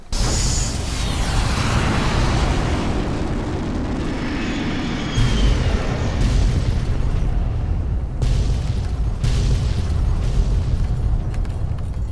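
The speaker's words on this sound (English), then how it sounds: "Cool guys don't look at explosions." A loud, sustained explosion in the video game Fallout New Vegas at the canyon wreckage, a dense roaring blast that keeps rumbling with crackling debris and further bursts for many seconds, with no speech.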